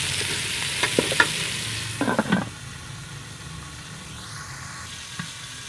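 Native chicken sautéing in a pan, with a few scraping stir strokes and brief sizzling bursts early on, then a low steady frying hiss; close and fairly quiet.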